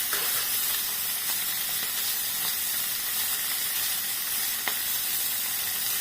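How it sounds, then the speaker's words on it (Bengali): Small mourala fish frying in hot oil, a steady, bright sizzle and crackle that holds evenly throughout with occasional sharper pops, close and alone without talk. "আর মাছটাকে ভালো করে ভেজে নিচ্ছি।"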